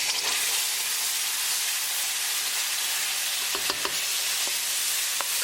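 Tomato sauce hitting hot tadka spices in a pan, a steady bright sizzle and hiss with a few sharp pops and spatters near the end, close and alone without talk.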